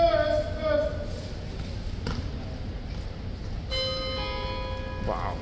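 A bell strikes a couple of times at the Horse Guards in London, clear ringing tones with lingering overtones above a constant low street hum, the second stroke about midway through.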